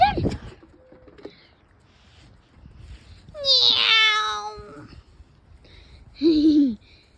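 Short meows from a female dog imitating or answering a cat-like call, mid-distance, two separate calls about two seconds apart, with faint talk around them.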